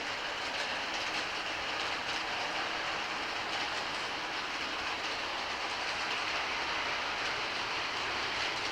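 Baltimore & Ohio model train locomotive running on a layout, a continuous quiet hiss-like rolling with faint clicking, steady and close throughout.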